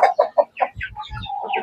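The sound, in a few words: rare chicken clucking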